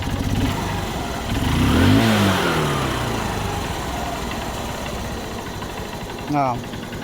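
A two-wheeler engine idles smoothly without racing, a steady low hum with a brief voice-like swell over it and a short blip near the end.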